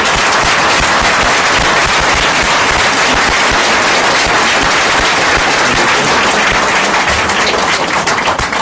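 Loud, sustained applause from an event audience in Buenos Aires, a dense wash of clapping that holds steady for over eight seconds with no voice on top.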